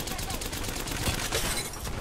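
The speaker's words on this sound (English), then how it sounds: "I don't know where my shots were going there." Rapid bursts of gunfire in the Apex Legends battle royale game crackle continuously, loud and dense throughout, with voices talking over the shooting.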